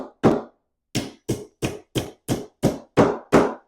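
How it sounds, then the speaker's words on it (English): A hammer taps a glued-up wooden Shaker table top: one early knock, a pause, then a steady run of eight sharp, close blows in even rhythm, each ringing briefly. "Now I'm going to come by with the hammer."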